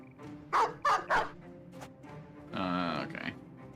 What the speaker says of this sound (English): Let's summon the dog real early.